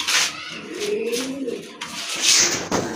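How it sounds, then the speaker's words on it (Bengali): Pigeons, including a red-barred male, coo in a soft rolling pattern through the clip, close and fairly loud, with light chirps and bird-market background noise around them. "এই যে দেখেন মাশাআল্লাহ দেখার মতো খুবই কিউট একটা নর কবুতর"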